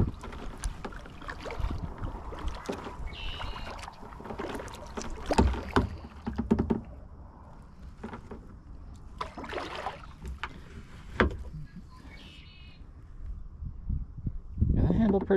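An Eddyline Fathom kayak moves through a patch of reeds on Boedecker Lake, with irregular close brushing, rustling and water splashes from paddling, plus light wind noise.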